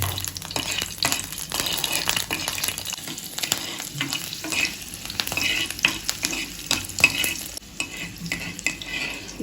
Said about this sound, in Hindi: तो सरसों के तेल में सबसे पहले हरी मिर्च को फ्राई करके निकालना है।